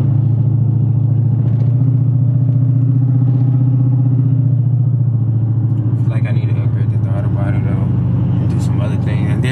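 Steady low engine rumble and road noise from a car cruising on a highway, loud and continuous throughout, with some clattering and wind hiss picking up in the final few seconds.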